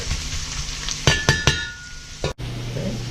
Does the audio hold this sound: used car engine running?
no